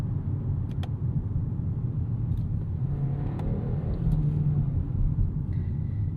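A 2026 Kia K4 hatchback with a 1.6-liter turbo engine, heard from the cabin while driving: a low, steady engine and road rumble, quiet and continuous, with a few faint clicks.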